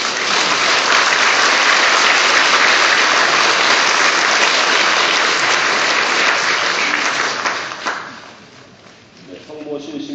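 A church congregation at Mass breaks into loud, sustained applause of welcome for a priest, dense and even for about eight seconds before fading into scattered claps and room noise.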